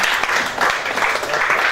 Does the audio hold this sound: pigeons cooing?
no